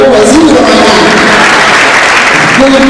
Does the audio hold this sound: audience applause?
yes